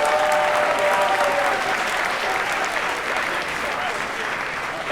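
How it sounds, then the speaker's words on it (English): An audience at a follies showcase claps and cheers for the performers, a dense, loud wall of applause that holds steady throughout and fades only slightly at the end. "let's get a huge round of applause for all our performers"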